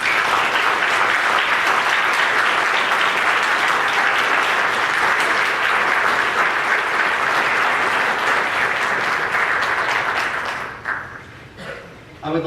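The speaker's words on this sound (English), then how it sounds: "Please, everyone, join me in giving all of these people a round of applause" Sustained applause from a middle school assembly audience fills the hall, a thick roar of many hands that holds steady for about ten seconds and then thins out to scattered claps.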